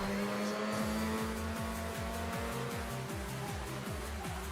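Mazda RX7 drifting in Forza Horizon, a steady loud engine drone with rhythmic revving pulses as the car slides through a bend, continuous and close, no voices.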